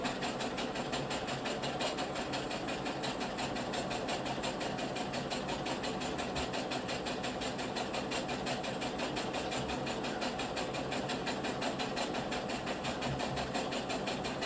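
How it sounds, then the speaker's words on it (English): A sewing machine stitching fabric runs steadily at close range with a fast, even mechanical chatter that holds at one pace for the whole stretch, with no voices. "So we're just going to go ahead and sew down here."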